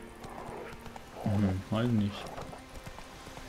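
Horse hooves clip-clop in the video game The Witcher 3, a soft steady rhythm running under German conversation.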